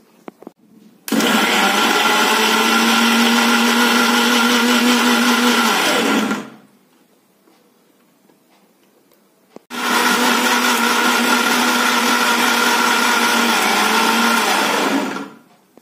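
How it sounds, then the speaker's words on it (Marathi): A mixer grinder whirs loudly as it grinds fresh spinach into a fine paste, running steadily for about five seconds, stopping for a few seconds of near silence, then running again at full volume. "आणि ती मिक्सरला बारीक करून घ्यायची."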